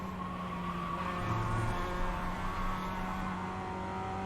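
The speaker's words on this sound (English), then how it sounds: "BMWs are coming now." BMW production race cars at Oran Park, a steady engine drone with sustained tonal whine, far-off and building as the cars approach, with no talking.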